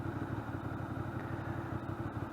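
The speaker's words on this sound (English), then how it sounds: "You get that low, deep, burbly rumble." Ducati Monster 600 motorcycle engine and exhaust giving a steady, deep, burbling rumble with a pulsing low-end throb, close and continuous throughout with no talking.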